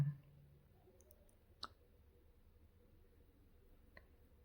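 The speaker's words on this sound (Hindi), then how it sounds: "हम आगे नेक्स्ट पर क्लिक करेंगे जितना जल्दी हो सके" A mouse clicks the Next button while filling out an SSC GD online application form, a single sharp click standing alone in near silence, followed by a fainter second click a few seconds later.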